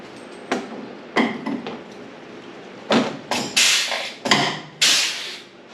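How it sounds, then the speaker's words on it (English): Pop riveting a part onto the front of a car's cooling system produces a series of sharp metallic clacks and snaps, several in quick succession, close and fairly loud over a steady background hum. "I'm going to pop rivet this into the front right here."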